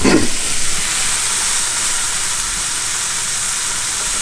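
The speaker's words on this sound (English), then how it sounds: "So we'll cook up this little patty and see how we're doing." A small test patty of summer sausage meat sizzles steadily in a pan, a loud continuous frying hiss that holds from start to finish with no talking.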